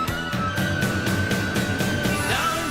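A musician plays a steel guitar line with a sustained, gliding tone that slides near the end, over a full band mix of a recorded song.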